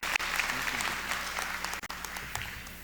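Steady applause fills a university convocation hall as the Bowie State freshman class of 2022 is welcomed. The clapping is dense and even throughout, with a faint low hum beneath it.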